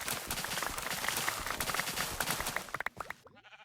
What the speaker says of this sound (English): we finally have a working sheep farm